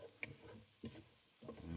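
Leeks cooking in a pan for a fish pie, giving soft, faint sizzles and a few stirring scrapes in short bursts, quiet and close with no talking.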